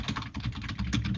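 Rapid clicking of keys on a computer keyboard, a busy irregular patter of close, fairly loud keystrokes that runs without pause, with no voices over it.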